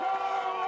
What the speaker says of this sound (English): you can hear the crowd go wild as she's waving her glove